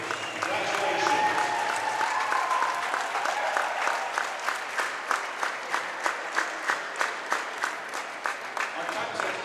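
A gym crowd at a high school varsity volleyball match applauds the volleyball seniors, with loud sustained clapping that settles into a steady rhythmic unison clap toward the end.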